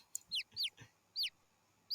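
Chickens clucking in a video game, a few short bright chirping clucks in quick irregular bursts, faint and isolated.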